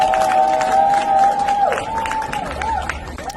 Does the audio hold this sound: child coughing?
no